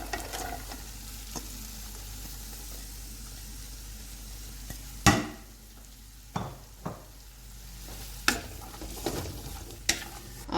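Peas and carrots sizzling in hot oil in a pan for pulao, a steady crackling fry with several sharp clanks of a spoon stirring against the pan, no voices.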